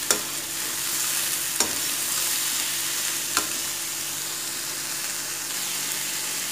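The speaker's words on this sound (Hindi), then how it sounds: "इसको इस तरह पूरा अच्छे से इसको भून लेना है हमें" Chopped snake gourd stir-fried in a pan crackles with a steady, close sizzle, broken by a few sharp clacks of a spatula against the pan and no talk.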